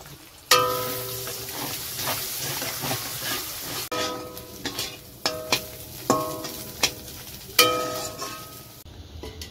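An egg frying in hot oil in a pan at home, with a continuous sizzle punctuated by sharp metallic clinks and scrapes of a utensil against the pan.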